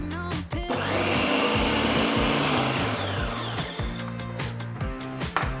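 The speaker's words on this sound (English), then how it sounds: "Chop it and add to the blender for a quick spin." A loud, steady motor whir with harsh rattling as a blender spins roasted tomatillo salsa, running continuously with small surges and no voices.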